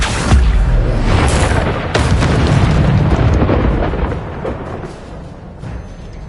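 An Incendio fire spell cast in Hogwarts Legacy on PS5, a loud roaring burst of flame that sustains for several seconds and then slowly fades.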